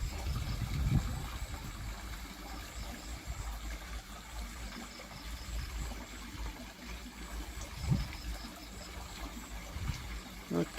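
Water pours steadily down a homemade fake rock waterfall at a pond in Thailand, making a continuous close rushing splash with a few dull knocks.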